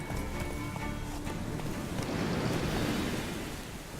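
Roach, a horse in The Witcher 3 video game, gallops with a quick, continuous hoofbeat rhythm buried in a dense, wind-like rushing wash that stays loud throughout.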